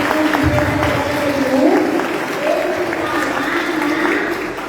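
An audience at a lecture on artificial intelligence applauds a lawyer coming up to speak, continuous moderate clapping with voices mixed in.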